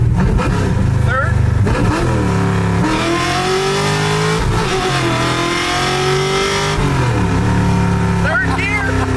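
A Masutangu car accelerates hard in third gear, its engine note climbing steadily loud and close with a brief dip mid-pull before rising again, continuous throughout.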